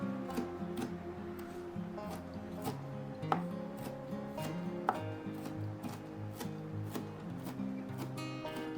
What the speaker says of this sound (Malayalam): നല്ലതുപോലെ അത് പൊടിപൊടിയായിട്ട് അരിഞ്ഞെടുക്കണം.